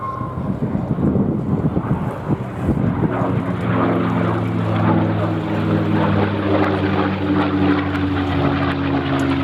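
A Rolls-Royce-engined P-51D Mustang flies a display at an air festival, its propeller engine droning loud and steady with a rich harmonic growl, buffeted by wind noise at the start.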